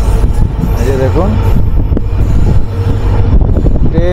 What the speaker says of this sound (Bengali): তো ট্রেন এখন আমাদের বাগরাকোটে ঢুকছে